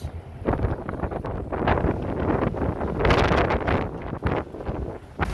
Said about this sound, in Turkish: çünkü böyle bol sağlıklı, güçlü, kuvvetli bir rüzgar var